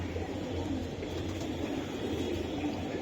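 Large Giribaz high-flyer pigeons give low, steady cooing pulses nearby over a constant background hum, with no talk.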